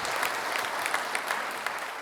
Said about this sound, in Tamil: ஒரு உற்சாகமான கைத்தட்டு